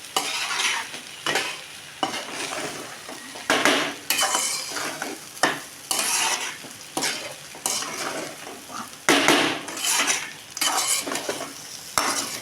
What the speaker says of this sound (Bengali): এগুলোকে এবার ভালো করে আলগাভাবে নাড়তে হবে।